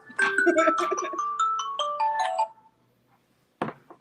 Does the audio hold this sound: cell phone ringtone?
yes